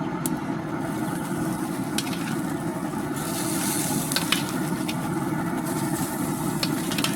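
Lobster tails set onto a Camp Chef Woodwind pellet grill, giving a steady broadband sizzle and hiss throughout, with a few faint clicks and taps near the grates and no talking.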